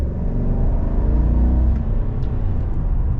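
A 2021 Chevy Silverado 1500 High Country pickup accelerating in sport mode, heard from inside as a loud, steady low engine rumble and road roar with a gentle rising whir, no voices.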